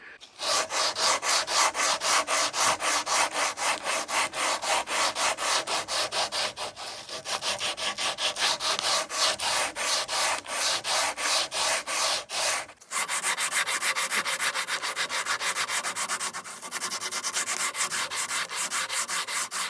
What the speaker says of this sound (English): we start with the heaviest grit, which in this case is the 80. And you can never do enough sanding